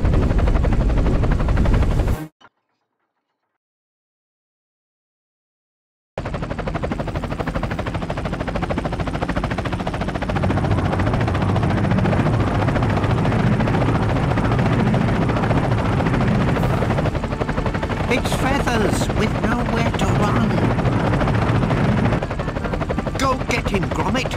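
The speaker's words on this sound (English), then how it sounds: "Ready for takeoff, Squadron Leader Gromit?" A makeshift aircraft in a Wallace & Gromit video game roars into takeoff with a loud, continuous rotor-like drone and rattling, after a short cut to silence, with voices briefly heard over it.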